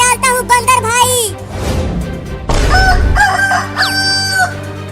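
Cartoon rooster crowing loudly and up close, followed by clucking and other chicken calls, alongside brief bursts of noise and a voice.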